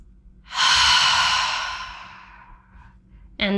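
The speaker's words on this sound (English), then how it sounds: "Take a full breath in and out." A single slow, full breath in and out during a relaxing cooldown after a head-to-toe mobility flow, a close, loud exhale that trails off gently over a couple of seconds, followed by a brief start of another breath.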